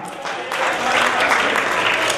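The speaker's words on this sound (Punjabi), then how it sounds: "ਇੱਕ ਵਾਰੀ ਜੋਰ ਦੀ ਤਾੜੀਆਂ ਮਾਰ ਦਿਓ" A live Punjabi comedy show audience breaks into loud, dense clapping that swells after a brief start and holds steady throughout.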